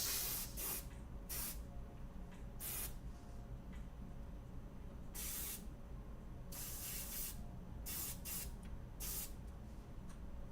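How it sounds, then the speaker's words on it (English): An airbrush sprays in repeated short hissing bursts of varying length, separated by quieter gaps, close and fairly faint over a low steady background hum, with no talking. "It's a good airbrush."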